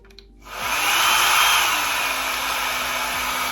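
A Llano hair dryer switches on and blows with a loud, steady airy roar and motor whine, then cuts off sharply at the end, no voices.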